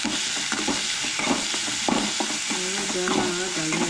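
Jackfruit bhaji being lightly sautéed in a pan, with continuous frying hiss and repeated scraping stirs of a spatula, close and fairly loud, no talking.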